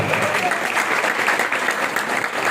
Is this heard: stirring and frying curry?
no